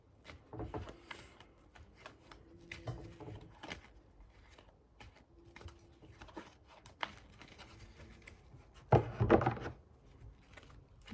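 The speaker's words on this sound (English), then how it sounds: "I'm going to shuffle again" Tarot cards being shuffled: quiet papery riffling and soft card slaps come in brief bursts, with a louder shuffle near the end, close and faint.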